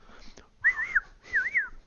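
A creature in a fantasy tabletop roleplaying story gives two clear, rising and falling whistled calls, each about half a second long, close and fairly loud with short pauses between.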